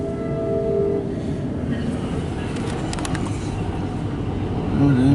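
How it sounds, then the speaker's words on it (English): A MARC commuter train passes with a loud, steady rumble of wheels and rails, a brief horn-like tone early on and a rising roar toward the end. "Yeah, that's a train I heard leaving Rockcraft Station."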